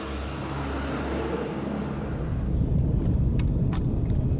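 A car drives along a road in Bali toward Lake Danau Batur at the foot of the Gunung Batur volcano, with a steady low engine and road rumble that swells slightly louder partway through and carries on continuously.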